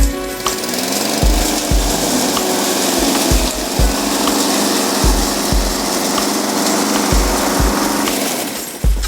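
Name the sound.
lawn mower mowing fallen leaves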